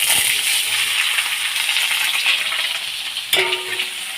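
Potatoes hit hot oil with black cumin in a pan, a loud continuous close frying hiss with a sharp burst of sizzle and clatter partway through.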